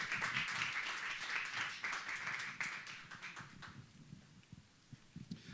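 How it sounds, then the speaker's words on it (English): An audience at a university innovation celebration welcomes a keynote speaker to the stage with full applause that thins after about three seconds into a few scattered claps and soft thumps, fairly quiet overall. "So a round of applause for Kendrick as he comes."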